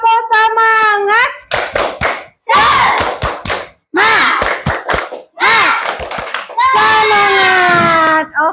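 A group of children in a classroom chant in sing-song voices between bursts of rhythmic hand clapping, the chant and claps alternating in short, loud, close phrases.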